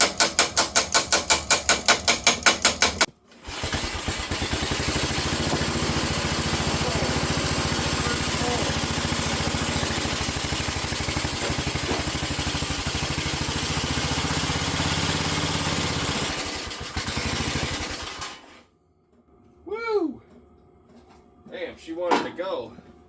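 A Wheel Horse 607 garden tractor engine catches on the first pull and runs at a steady, loud idle for about fifteen seconds before shutting off, followed by a few faint sounds and voices.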